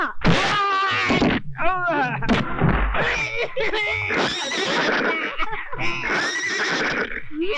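A horse neighs loudly and repeatedly in a film scene, shrill whinnies breaking into snorts and groans, with gunfire-like bangs and commotion mixed in.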